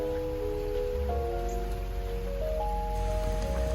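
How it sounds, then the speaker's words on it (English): Steady rain falls continuously outdoors in a dense even hiss during a run, with faint tonal hum lines running underneath. "I am so over this rain."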